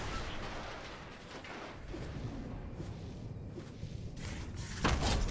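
A grenade explodes in Fortnite Battle Royale: a sharp, loud blast near the end, rising out of a steady bed of gameplay noise and scattered impacts, with no talk.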